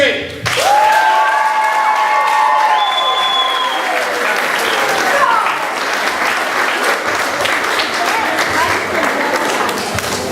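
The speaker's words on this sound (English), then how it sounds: "one more big round of applause for the 6th grade" An audience gives a big round of applause for a 6th grade school play, with dense clapping and some cheering. Brief whistles or voices rise above it near the start, and the clapping stays loud and sustained to the end.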